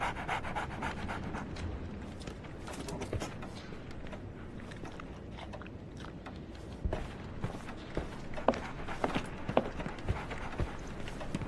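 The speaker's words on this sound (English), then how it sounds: "So, Barnes has a dog now." Dog panting heavily inside a Sherlock Holmes video game: steady, rapid breaths running continuously at close range, with a few sharper clicks and thumps toward the end.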